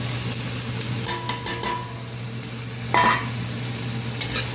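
A spoon stirs a dish frying in a pan with soy sauce, gentle sizzling under scraping strokes and a couple of clinks against the pan, steady and close.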